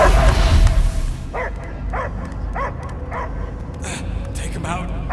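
A dog barks in the video game Guardians of the Galaxy, giving a steady series of short, regularly spaced barks over a busy game soundtrack while voices talk.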